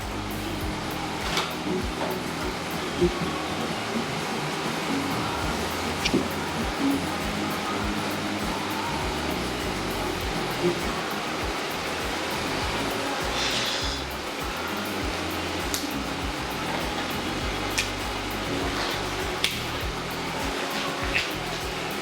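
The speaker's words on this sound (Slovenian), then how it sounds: "Si že prižgeja ventilatorje?" Electric fans blowing steadily in a cycling test lab at a human performance centre, a constant broadband whoosh filling the space throughout with faint occasional clicks and no clear speech.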